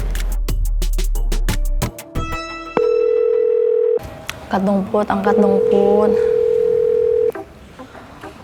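Phone dialing with a quick run of keypad tones, then a steady dial-type tone and a longer ringback tone, with people speaking briefly in between in an Indonesian drama scene.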